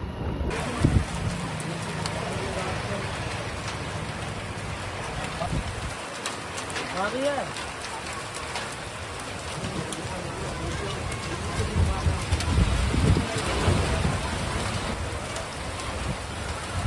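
Heavy storm rain pours down steadily in rural Bihar, a dense, loud hiss with low thunder rumbling beneath it. Faint voices come through in places.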